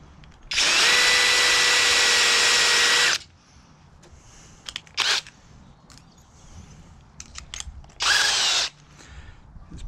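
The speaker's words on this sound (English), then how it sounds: "I do have to ream it out with the right size drill bit, 5mm for a 5mm bolt." A power drill with a 5mm bit whines loudly for a few seconds while boring a hole in a camper van fitting, followed by clicks and handling noises, then one shorter burst of drilling.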